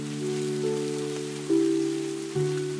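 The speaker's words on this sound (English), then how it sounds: "The raindrops hit the water," Steady rain pattering onto water in a muddy pit, a continuous hiss of drops and splashes with a low sustained hum beneath, even and close throughout.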